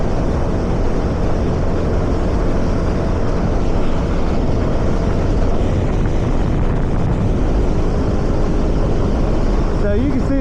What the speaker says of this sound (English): So you can see the DRZ has no problem getting on the highway and merging on the highway.